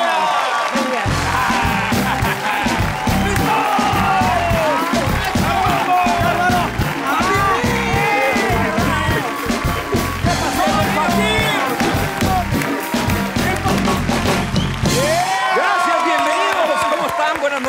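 A television studio audience cheers, whoops and applauds loudly and continuously for arriving guests on a Spanish-language entertainment show, the dense crowd noise going on for most of the stretch before dropping off near the end.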